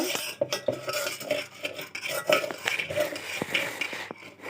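A spoon stirs popcorn in a metal pot at home, scraping and clinking in irregular strokes close by, with a few light taps against the rim; people talk quietly now and then.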